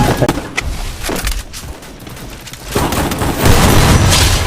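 Gunfire in a shooting video game during a headshot attempt, loud booming shots and rattling bursts stacked over each other, with a heavier surge of firing near the end.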